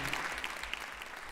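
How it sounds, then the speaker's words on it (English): Audience applause at a VR awards ceremony, a steady wash of clapping hands filling the room without any voices on top. "And a warm round of applause for all of you."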